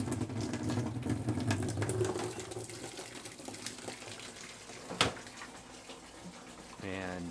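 Water pours steadily into a 25-gallon tank used for mixing plant nutrients, a close continuous gushing rush with a brief knock partway through, while someone talks over it.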